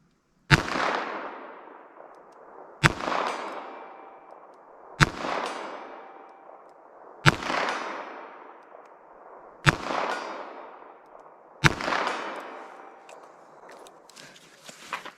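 Six evenly spaced .22 WMR magnum gunshots, each a sharp loud crack followed by a decaying outdoor echo, about two seconds apart with no talking.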